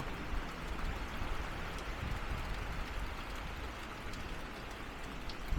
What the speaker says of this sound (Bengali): বৃষ্টি ঝিরিঝিরি হচ্ছে, ঝিরিঝিরি বৃষ্টি হচ্ছে